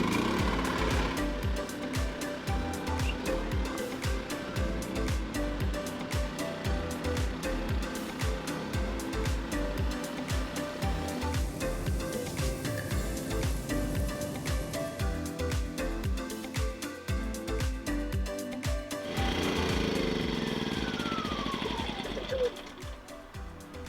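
Propane-powered generators run together to power a 15,000 BTU RV rooftop air conditioner, giving a steady, loud mechanical drone with rhythmic engine pulsing, and a shift in tone near the end.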